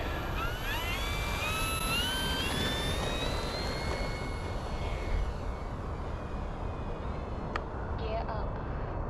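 A CNHL Super Tucano RC plane with a 1600mm wingspan flies overhead, its electric motor giving a steady, continuous whine with rising and falling pitch. Wind and outdoor noise stay constant underneath.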